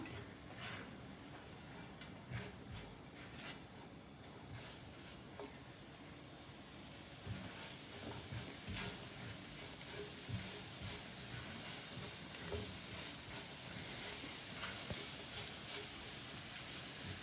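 Spring onions fry with mushroom fried rice in a pan, a soft continuous sizzle and hiss that grows a little louder, with light stirring taps and no talking.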